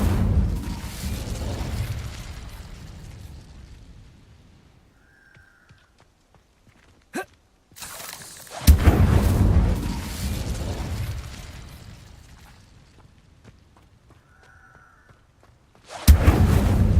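Incendio fire spell being cast in a Hogwarts video game, heard as several loud whooshing, crackling bursts separated by quieter stretches, with a sharp pop near the middle and another burst starting at the end.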